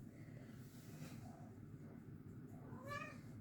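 A pet cat at home gives a short, rising meow near the end, close by and fairly soft over a steady low hum of room noise.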